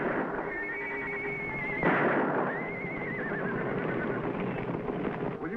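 A horse whinnies loudly, a long wavering neigh, then a second shrill whinny, with a brief burst of noise between them.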